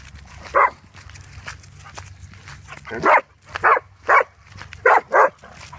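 A dog barks loudly and close by, six sharp barks spaced irregularly, mostly in a quick series toward the end, with quiet pauses between.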